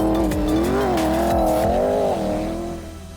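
A BAIC B40 Plus four-wheel drive vehicle with a ladder-frame chassis drives close by, its steady engine note rising and falling slightly, with some tire noise, before easing off at the end.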